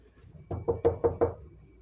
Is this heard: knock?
yes